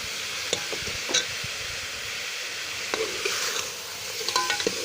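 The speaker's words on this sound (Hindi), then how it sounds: "इस तरह से हमने इसे 1 मिनट तक भून लेना है।" Beef korma frying and being stirred in a pan: a steady sizzle throughout, with spoon scrapes and light clinks scattered across the clip, close and moderately loud, no talk.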